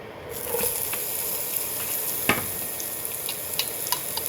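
Onion hits hot oil in a pan and frying starts, a steady close sizzle and hiss with occasional pops and stirring clicks throughout.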